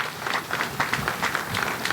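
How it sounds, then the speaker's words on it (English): An audience at a ceremony honouring national heroes gives a dense, steady round of applause, with many hands clapping continuously throughout. "Could we give all of them a round of applause?"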